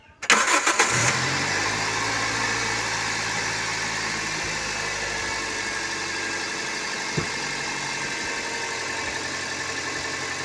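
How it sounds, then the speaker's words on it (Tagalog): A Toyota Corolla Altis (9th generation, 2001-2008) cranks and fires right after fresh spark plugs are fitted, then settles into a steady, smooth idle that runs close and alone until the end. "Paandarin na natin ang ating sasakyan."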